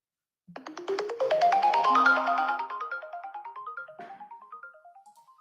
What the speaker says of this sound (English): I don't know why this one's not dialing.